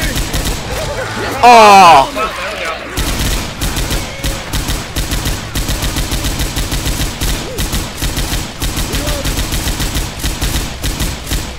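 Rapid automatic gunfire in Left 4 Dead 2, loud and continuous throughout, with a brief shout and voices talking over the shooting.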